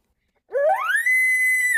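A short call imitating a bull elk's roundup bugle, made by a hunter on a call, rises from a low note to a high, steady whistle and holds for over a second, close and clear with no talk.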